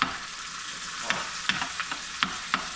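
Fish frying in a pan with garlic, a steady close sizzle broken by several sharp clinks and scrapes of stirring, with no talking.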